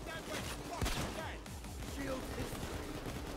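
Payday 2 gunfire: bursts and rapid shots from shooting at shielded enemies, close and fairly loud, with people talking over the action.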